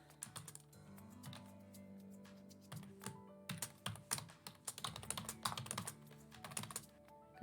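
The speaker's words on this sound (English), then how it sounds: "And I'm just typing everything in." Quick clusters of clicks come from typing on a computer keyboard, close and quiet, with bursts of faster keystrokes and brief pauses, no talking.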